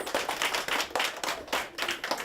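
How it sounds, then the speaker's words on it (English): Clapping from an audience cheering a young finalist in a cooking contest, a short burst of hand claps with uneven rhythmic surges, fairly close and clear, with no voices over it. "Can we give her a huge round of applause?"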